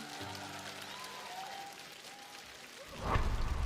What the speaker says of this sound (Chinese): 所以我们再次把热心掌声送给2位